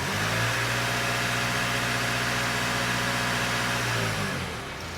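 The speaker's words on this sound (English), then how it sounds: "Go and get a wee rev ready soon." A 2010 Nissan Qashqai 2.0 dCi diesel engine, carrying an air-fuel sensor fault, runs steadily up close with a strong even drone and stacked harmonics, easing slightly lower near the end.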